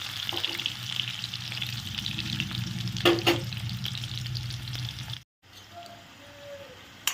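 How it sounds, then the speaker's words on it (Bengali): Potato cubes frying in hot oil, being pressed down as they brown, give a continuous close sizzle with stirring clatter, then a brief cut to a quieter, softer frying sound. "দেখো, আমার আলুগুলো কিন্তু সুন্দর করে আমি লাল লাল করে ভেজে নিয়েছি, চাপা দিয়ে দিয়ে কিন্তু ভেজেছি"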